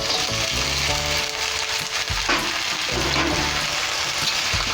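Potatoes and spring onions fry in a pan with a loud, constant sizzle that stays close and continuous throughout, broken by occasional faint knocks.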